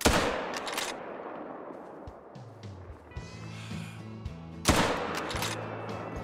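Rifle shots fired at a feral goat in the Call of the Wild hunting game: a sharp crack opens, with a second loud shot near the end, while low game ambience and tonal hum fill the gap.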